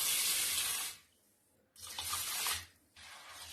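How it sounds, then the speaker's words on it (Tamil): Water pours into a vessel of sorghum grains, lentils and fenugreek to rinse them for dosa batter, a loud splashing stream in two bursts with a brief quiet gap between them. "இப்போ இது எல்லாத்தையுமே நம்ம நல்லா தண்ணி ஊற்றி நல்லா அலசிட்டு வந்துடலாம்."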